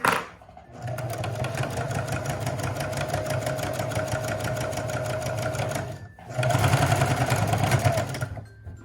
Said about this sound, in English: just sew over both stitches, just a little stitch right here